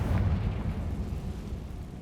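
A Confringo blasting spell explodes in the Hogwarts Legacy video game: a loud, deep booming blast that rolls on as a dense low rumble and fades slowly over about two seconds.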